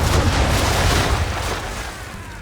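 Naval cannon fire from a sailing warship's broadside guns in Assassin's Creed III, a dense rolling roar of heavy booms that stays loud throughout before easing slightly toward the end.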